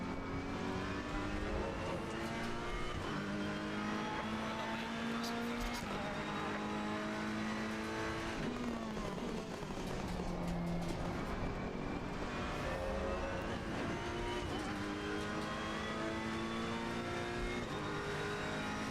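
An Audi GT3 race car engine in a sim-racing game at Bathurst drones continuously and loudly, rising and falling in pitch through gear changes and revs, with no gaps.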